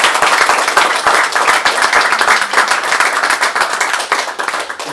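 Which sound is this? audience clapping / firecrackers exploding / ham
audience clapping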